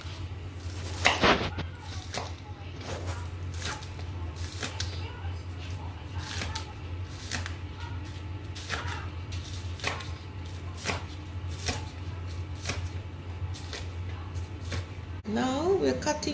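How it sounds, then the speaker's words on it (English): Spring onions chopped with a knife for a Scottish lentil soup, heard as an irregular run of sharp blade strikes on a board over a steady low hum, with voices in the background. "cutting the spring onions since we don't have other vegetables to put it in"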